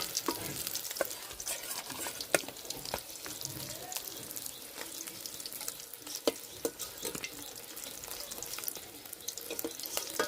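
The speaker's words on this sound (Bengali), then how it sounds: "মাছ লাল লাল করে ভাজে নিছি," Pieces of katla fish fry in oil in a pan, a faint, continuous crackling sizzle broken by sharp little pops and occasional scraping, with no voices.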